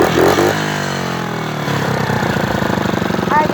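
A motorcycle engine revs up and drops back, then settles into a fast, choppy idle putter, loud and close.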